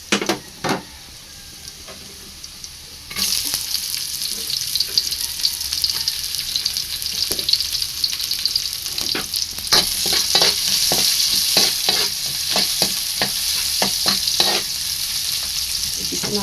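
Fermented fish paste (bagoong isda) sautéed in a pan for patani, a quiet start and then loud, steady sizzling with repeated scraping stir strokes close by, no talk.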